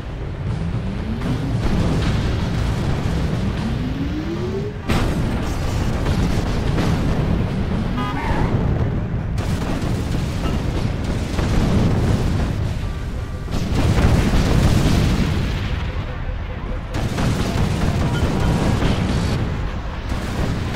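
Heavy booming blasts and rumbling impacts from missile explosions in The Incredible Hulk video game, loud and continuous with repeated bursts over a dense battle din, no talking.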